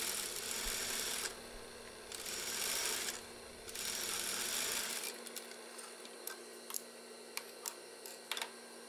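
A sewing machine stitches a zipper onto school trousers, running in steady bursts of close mechanical whirring, then stopping for a stretch of sharp, isolated clicks and ticks.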